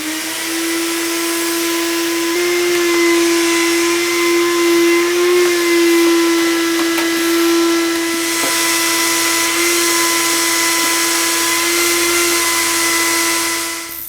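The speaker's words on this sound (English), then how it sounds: "Make sure when you do replace the filter that you get down in that air box and vacuum it out" A vacuum cleaner runs continuously as it cleans out the air filter box of a Mercedes 4matic with an M112/M113 engine, a loud steady whine with a strong sustained tone that shifts slightly as the nozzle moves.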